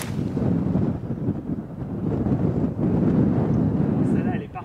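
Strong wind gusting across an elevated tee on the Ardglass links golf course in Northern Ireland, a steady loud roar and buffeting against the microphone that swells and dips throughout.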